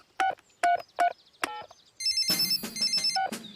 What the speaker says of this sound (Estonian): Helistan õige papi Kutsale